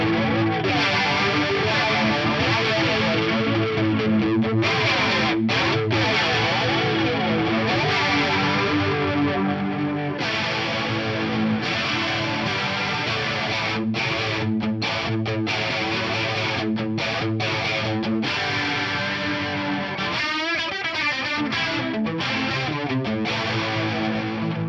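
An electric guitar plays through an Eventide H90 Harmonizer's instant flanger effect, a continuous swirling, sweeping tone with chorded strums and brief breaks, loud and alone without talk.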